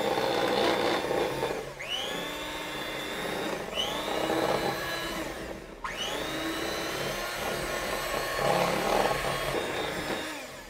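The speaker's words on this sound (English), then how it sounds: "I'm going to put the hand mixer on the lowest speed at first, and then I'm going to raise it to the highest speed" An electric hand mixer whirs steadily through royal icing, its motor pitch sweeping upward several times as the speed is raised, a close, continuous buzzing without speech.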